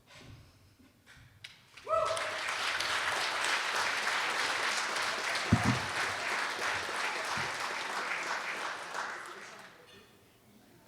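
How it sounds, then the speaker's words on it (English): Wedding guests at the Marshes Golf Club in Ottawa clapping after a speech: applause swells abruptly from quiet, holds as a full, sustained round with a thud partway through, then fades out. "Why do you guys clap all the time when Sherry talks?"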